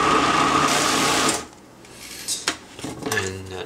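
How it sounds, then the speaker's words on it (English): Blender whirring through maple cake frosting with unsweetened cocoa powder and honey, loud and steady for about a second and a half before cutting off, followed by faint clinks and handling sounds. "Cover it up and blend it again."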